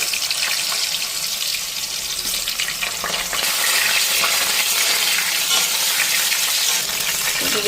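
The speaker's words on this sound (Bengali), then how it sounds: "তেল গরম হয়ে গেছে আলুগুলি আগে ফ্রাই করে নিই" Potatoes fry in hot oil for a chilli chicken dish, a loud dense sizzling hiss that swells further midway and holds steady close by with no talk.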